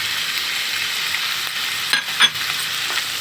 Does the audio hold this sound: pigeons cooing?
no